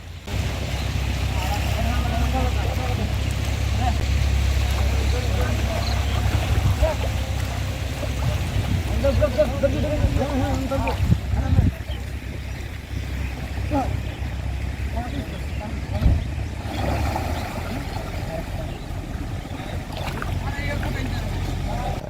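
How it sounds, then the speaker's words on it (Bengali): A large fishing trawler's engine drones low and steady alongside a boat stuck on a river char, a constant near rumble mixed with wind and water noise throughout. "পাশে যেই বড় ফিশিং ট্রলার রয়েছে সেটি আমাদের সহযোগিতা করছে"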